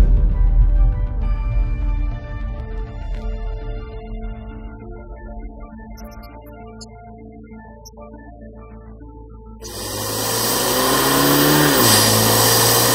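A four-stroke car engine revs under the accelerator, a steady mid-pitched drone that eases off, then surges into a louder, brighter rising roar near the end.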